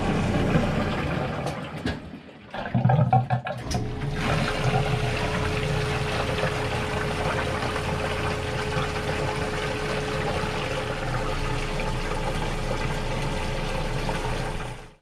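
Washing machine fitted with a Filtrol lint trap washing towels, jeans and a small blanket: a steady churning water-and-motor rumble that runs continuously, briefly interrupted by a short clunk near the start, loud and close.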